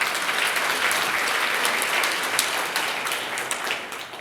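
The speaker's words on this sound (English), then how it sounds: "I think that deserves a round of applause." Audience applause fills a forum room, a steady, dense wash of many hands clapping at even strength throughout before thinning slightly at the end.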